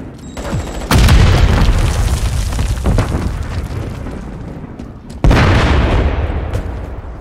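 A grenade detonates in Call of Duty Modern Warfare III with a loud, deep boom near the start, a rumbling tail, then a second heavy blast a few seconds later, both close and booming.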